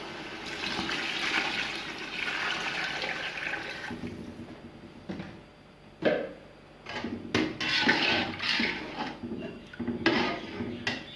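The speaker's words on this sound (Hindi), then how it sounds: "अब इसमें हम पानी डालेंगे।" Water poured into a pot of browned rice while cooking vegetable pulao with peas and potatoes: a steady rushing pour for several seconds, then clinks of pots and utensils and short splashes.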